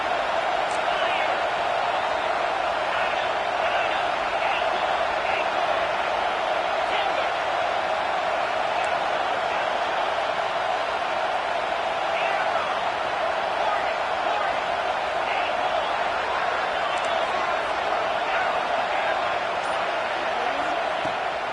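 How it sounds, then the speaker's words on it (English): A dense, unbroken roar rises from the home crowd at a college football game, holding loud and level for over twenty seconds with faint scattered whistles and shouts inside the wash. "this crowd really affecting the football game"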